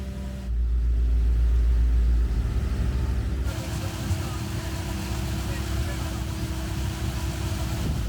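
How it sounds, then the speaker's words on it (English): A concrete boom pump runs with two lorries discharging into its hopper at once during a 200-cubic-metre C40 pour, giving a loud, steady low engine rumble and mechanical churn that thickens partway through. "We've brought in a boom pump for this pour. Because of the power of this pump, we have 2 lorries pouring into the hopper simultaneously."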